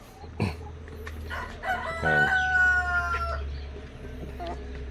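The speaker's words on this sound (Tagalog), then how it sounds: "Yung ating mga manok Ayan." A rooster crows loudly, a drawn-out harmonic call mid-clip, with scattered clucks and cackles from nearby chickens over steady background hum.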